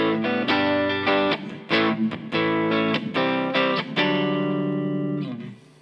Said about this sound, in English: Channel 1 is based on the now discontinued Wampler Underdog pedal.